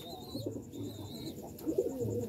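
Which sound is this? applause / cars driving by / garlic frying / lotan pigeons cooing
lotan pigeons cooing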